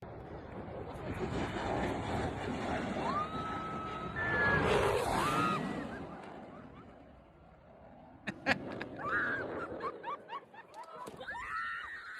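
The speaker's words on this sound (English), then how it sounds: "this dangerous, terrifying flyover by the Blue Angels" A Blue Angels jet roars low over a beach, a loud rising-and-falling engine rush that peaks then fades, followed by a crowd laughing and shouting nearby.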